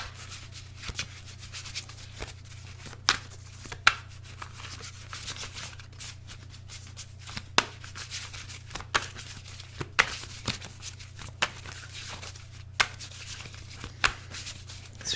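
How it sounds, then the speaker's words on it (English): Tarot cards shuffle in soft, continuous riffling and rubbing strokes with occasional sharper snaps, faint and close over a low steady hum. "Three more shuffles."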